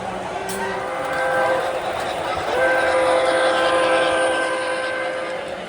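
An O gauge model of a Long Island Rail Road C420 locomotive in World's Fair livery rolls along with a steady mechanical rumble while its horn sounds in two sustained blasts, at a railroad museum.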